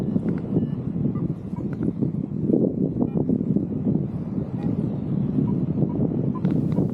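Strong wind buffets the microphone during a paraglider landing, a loud continuous low roar with gusty surges throughout.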